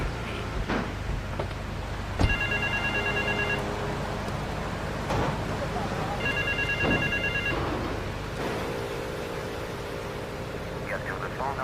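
A payphone rings in the video game GTA 3, two bursts of electronic trilling rings separated by a pause, heard over a steady hissing background with faint low rumble.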